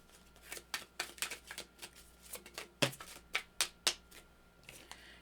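Tarot cards shuffled by hand, a quick series of crisp riffling bursts and soft slaps at uneven intervals, close and fairly quiet, with no talking.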